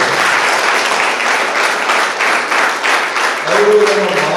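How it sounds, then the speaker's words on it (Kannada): Loud, sustained applause from an audience at an award presentation and music program, a dense wash of clapping that carries on for several seconds with a voice briefly audible near the end. "ಅವ್ರಿಗೆ ಜೋರಾದ ಚಪ್ಪಾಳೆ"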